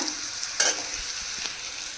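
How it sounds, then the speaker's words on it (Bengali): Bitter gourd and pumpkin frying in a pan give a faint, steady sizzle throughout, with a brief louder burst of crackle early on as the pieces are stirred. "এই যে এখানে হচ্ছে উচ্ছে কুমড়ো ভাজা"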